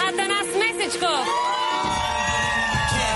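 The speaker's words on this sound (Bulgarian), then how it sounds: "Аплодисменти за звездата на Dancing Stars Атанас Месечков" A television studio audience claps, cheers and whoops as a Bulgarian celebrity dancer enters a reality show, a loud, close crowd roar with shouting voices layered over it.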